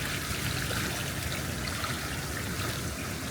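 Trout splash around in hatchery water, giving a continuous close wash of churning, rushing water with no voices.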